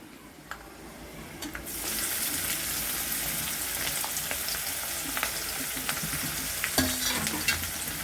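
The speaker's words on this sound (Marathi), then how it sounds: "तर आपल्याला आता टाकायचंय कांदा आणि मिरची." Chopped onion and green chilli hit hot oil with fried peanuts for poha, bursting into a loud, steady sizzle after a brief quiet start, with a few scraping stirs and clinks of a spoon against the pan.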